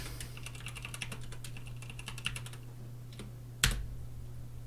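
A burst of rapid keystrokes on a computer keyboard types out a file path, quick clustered clicks that thin out, followed by one louder key strike, close and quiet with no talk.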